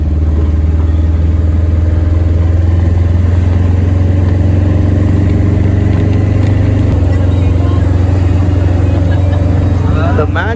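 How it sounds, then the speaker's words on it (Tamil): A Tata Magic passenger van cruises at about 60 km/h on the road toward Thiruchendur, its engine droning loudly and continuously from inside the cabin with steady road rumble. "இந்த மேஜிக்கும் 60 கிலோமீட்டர் ஸ்பீடு போகுதுங்க"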